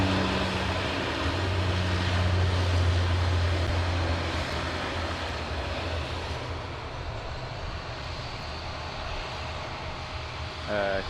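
An airliner at Sydney Airport, flight BA630, a low engine rumble that swells early then fades into a broad distant roar, with faint radio-like chatter at the end.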